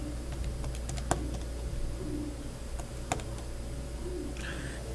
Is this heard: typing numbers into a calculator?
yes